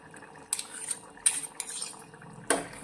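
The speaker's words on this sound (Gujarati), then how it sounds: "આ રીતે 2 થી 3 ટુકડા બટેકાના આ ચમચામાં લઈ લઈશું અને ચમચીથી તેને પ્રેસ કરી અને ઝીણા કરી લઈશું" A metal spoon clinks and scrapes in a steel ladle, pressing and mashing two or three pieces of boiled potato, a few sharp taps over a soft background hiss.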